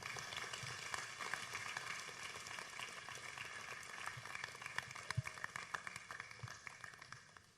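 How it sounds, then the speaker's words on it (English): An audience at a gathering applauds a speaker, a quiet, fairly distant spread of many hands clapping unevenly, with a few sharper claps and a faint murmur underneath. "So let's give a warm round of applause to Yong here."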